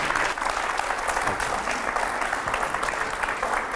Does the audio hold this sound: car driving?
no